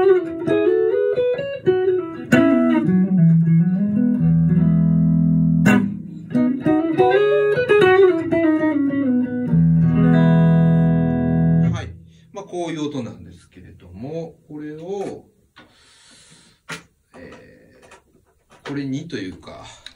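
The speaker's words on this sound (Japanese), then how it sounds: "まずこれが普通の JC の音ですね。" An electric guitar plugged straight into a Roland JC-120 amp with a clean tone rings out in loud sustained chords and melodic lines, then fades as someone talks over sparse quieter sounds.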